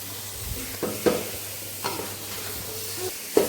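Garam masala and coriander powder being stirred as they fry in a pan for biryani, a soft steady sizzle broken by scattered scrapes and knocks of the spoon, close by, with no talking.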